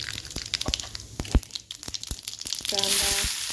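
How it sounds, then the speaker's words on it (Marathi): Cumin and mustard seeds sizzle in hot oil in a kadai, crackling and popping in sharp, irregular bursts close by, with a brief louder hiss near the end. "तेल ठेवले कढईत, त्याच्यात टाकायचे जिरे,"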